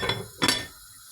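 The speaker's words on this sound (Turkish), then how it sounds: "Evet tenceremizi kapatalım." A metal lid clanks down onto a pot of barley vermicelli soup with a brief double clink, then the kitchen goes quiet.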